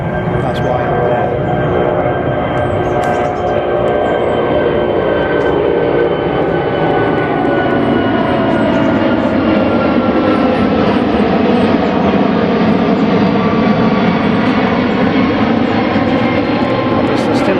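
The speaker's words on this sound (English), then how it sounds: "Obviously still hear the planes." Aeroplanes fly over a lake, a loud continuous jet roar with slowly sliding tones as the aircraft passes overhead, steady throughout and dominating the scene.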